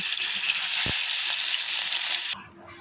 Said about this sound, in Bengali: এখন মাছগুলা এক এক করে ভেজে নেব